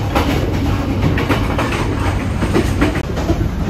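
Rattling clatter of a moving train in Vietnam heard from inside the restaurant car, with a steady rumble and rhythmic clickety-clack of wheels over rail joints, no talking.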